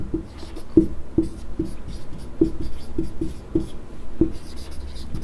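Chalk or marker writing on a board during a class 9 geometry lesson on triangles, repeated scratchy taps and strokes in an irregular rhythm, with a voice murmuring quietly underneath.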